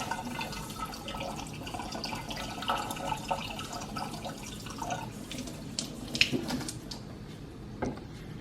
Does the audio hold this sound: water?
yes